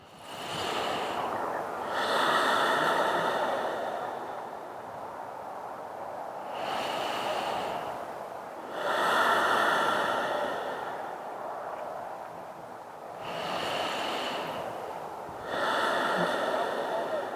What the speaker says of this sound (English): Bow your head and take a couple deep breaths.